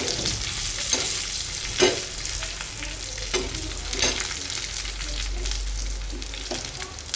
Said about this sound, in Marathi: यामध्ये आता आपण लसूण आणि अद्रक टाकून घ्यायचं आहे आणि गॅस बंद करून घ्यायचा आहे